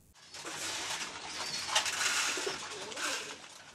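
Pigeons kept on a small pigeon-rearing farm coo steadily in a continuous, fairly loud chorus of soft throaty calls, with a brief flutter mixed in and no voices.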